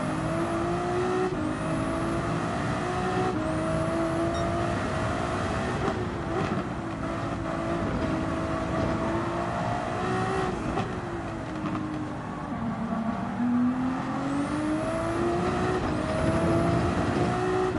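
A race car engine laps the Nurburgring in Gran Turismo 7, a continuous loud drone whose pitch climbs and falls with gear changes and cornering, with no talking.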